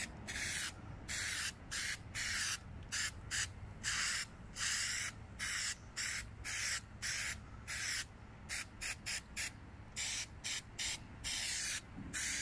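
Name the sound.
spraying paint stripper onto BMX bars and forks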